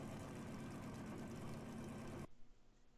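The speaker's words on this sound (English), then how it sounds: "Hear that engine." Racing video game car engine roaring steadily at a loud, dense level for about two seconds, then cutting off abruptly to a faint low rumble.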